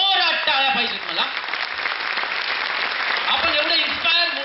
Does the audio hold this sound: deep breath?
no